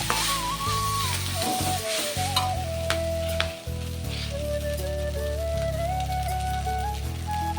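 Pasta with vegetables and fried egg sizzles steadily in a pan, a continuous close crackling hiss with occasional stirring scrapes, and music plays underneath.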